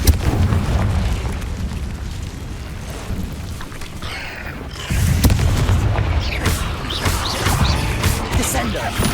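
A Confringo fire-spell explosion in Hogwarts Legacy, set inside a cave, lands as a heavy boom about midway, surrounded by rumbling, crackling game ambience and some voice.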